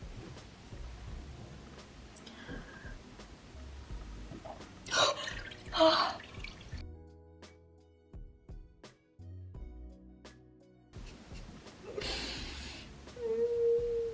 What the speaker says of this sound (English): Now I would need to put my whole face into this bowl.